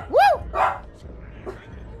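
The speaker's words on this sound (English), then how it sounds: "Hi, doggo. What you barking at?" A dog in the Little Nightmares video game gives two sharp barks close together, loud and near, followed by a fainter third yelp amid a quiet low background.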